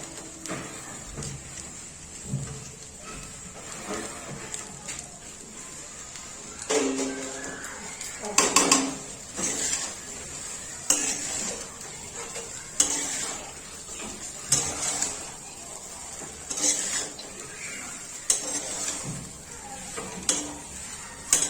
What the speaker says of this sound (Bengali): এটা নেড়ে নেড়ে ভাজা হচ্ছে